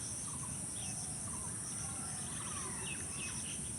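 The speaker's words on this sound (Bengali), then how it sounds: "আমাদের বাসার নিচে বাচ্চার, তাই কিচিরমিচির শব্দ পাখির আছেই" Faint, scattered bird chirps over a steady high insect-like hiss and low background rumble, distant and quiet.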